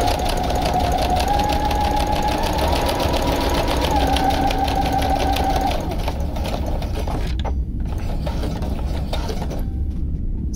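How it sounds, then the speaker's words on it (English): A sewing machine stitches fabric for a Klingon costume, running in a steady, fast mechanical whir for about six seconds, then slowing into intermittent bursts with short pauses. It is loud and close, with no voices. "So I was stitching"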